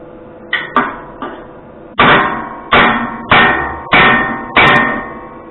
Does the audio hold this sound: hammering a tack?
yes